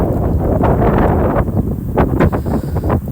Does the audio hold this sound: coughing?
no